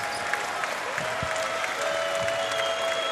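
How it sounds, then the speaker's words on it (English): An arena crowd applauds the players after a EuroBasket 2025 group game between Serbia and Czechia, a steady wash of clapping with faint whistles and thuds mixed in. "some applause for the players as Serbia win it 82-60"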